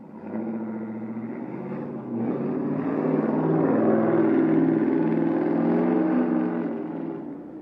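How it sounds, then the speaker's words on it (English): A car with a loud exhaust passes on a city street in Milwaukee's Bayview neighborhood. The deep engine rumble builds, holds strong through the middle, then fades slightly. "To some people, it's important to have really loud exhaust"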